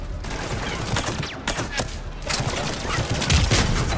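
Rapid bursts of pistol fire in a first-person shooter game, several sharp shots scattered across a few seconds over a dense background of game noise.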